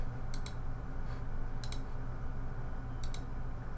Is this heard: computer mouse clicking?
yes